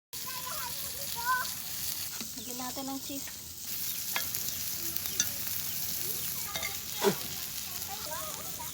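Mussels topped with cheese sizzle on a grill, a steady soft crackle and hiss with occasional sharper pops and scraping, fairly quiet and close, with a voice speaking briefly partway through.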